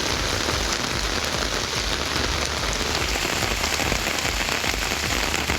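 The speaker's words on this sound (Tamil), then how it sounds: "சுமார் 1 மணி நேரத்திற்கு மேலாக கனமழை பெய்தது" Heavy rain pours down steadily for the whole stretch, a dense, continuous hiss of drops striking surfaces with no pauses and no voices.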